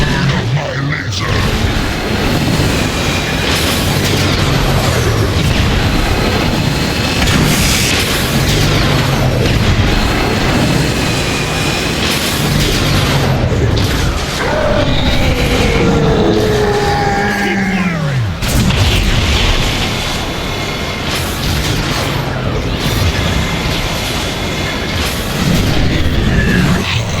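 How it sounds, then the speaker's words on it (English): Laser blasts and heavy booming explosions in the Transformers: War for Cybertron video game, loud and continuous, with whooshing sweeps and a game score underneath. "Feel the burn of my laser!"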